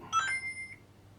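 A phone gives a short electronic beep, a bright tone that rings briefly and then fades, heard alone over a quiet background.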